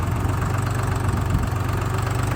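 A Dongfeng 244 tractor engine idles steadily, a continuous low, rumbling diesel drone with a faint knocking texture, heard up close with no voices.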